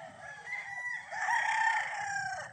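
A gamefowl stag rooster crows once, a long, loud, close call that rises and holds before trailing off.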